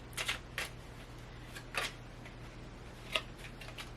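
Tarot cards being shuffled by hand in short, crisp riffling bursts with pauses between them, close and fairly faint in a quiet room.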